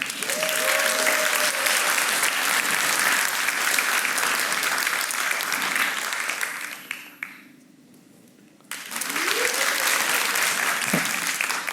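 Audience applause for an applause-meter demo during a React conference talk: dense, loud clapping that cuts out into near silence for about two seconds, then surges back just as strong.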